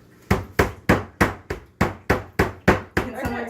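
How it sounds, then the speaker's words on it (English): A mallet hammers meat flat in a home kitchen, landing about ten sharp, evenly spaced thuds close up. Each strike fades quickly before the next, and a faint clatter follows at the end. "Okay, evenly hammer it."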